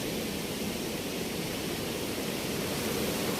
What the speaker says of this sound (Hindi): काफ़ी तेज़ दरिया ये जहाँ पे आप देख सकते हैं